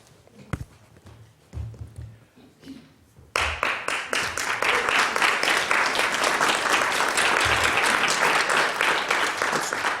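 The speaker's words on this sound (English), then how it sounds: "It's fine to clap, you know." Literary café audience bursts into sustained, loud clapping after a few seconds of quieter room sounds and scattered taps, the applause continuing steadily to the end.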